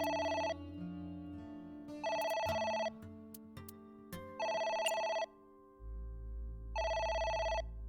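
A telephone rings in the visual novel Ai: The Somnium Files, four bursts of a bright electronic double ring spaced about two seconds apart over soft background music, clear and prominent.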